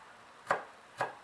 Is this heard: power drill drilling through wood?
no